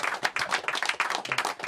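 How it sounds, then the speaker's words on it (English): A small crowd gives a round of applause at an FA Cup special gathering, dense rapid clapping close and bright, lasting under two seconds with no voices. "Give him a big round of applause, everybody."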